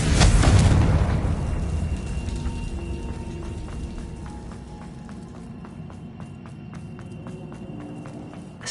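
A Confringo blasting-curse explosion in Hogwarts Legacy booms loudly at the start, then its rumble slowly decays into a lingering tail while quiet footsteps tick steadily underneath.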